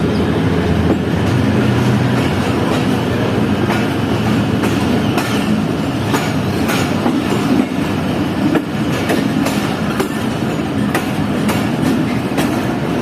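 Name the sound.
Fareed Express train arriving at station platform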